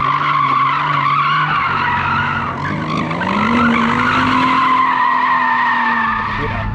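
A BMW M240i with traction control switched off skids hard, its tires squealing loudly and continuously for about seven seconds, the pitch wavering and rising midway over the engine's drone.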